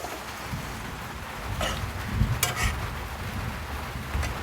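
Goat meat, about half a kilo, tipped into a pan of well-fried onion-paste masala, giving a steady sizzling hiss with a couple of sharper bursts of crackle midway.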